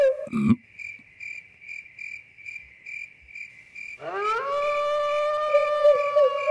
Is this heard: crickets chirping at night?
yes